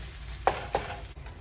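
Ground beef with chorizo and onions sizzles steadily in a pan, with two soft scraping stirs as the meat is broken up, heard fairly quietly with no talk.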